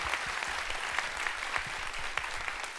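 Talk show audience applauding at a robotics event, a fairly quiet but steady crowd clapping with a few sharper individual claps standing out.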